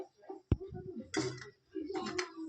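Crispy fried kodubale, small ring-shaped rice-flour snacks, tapped and knocked together, giving a sharp, hard click followed by short brittle rattles, close and fairly quiet.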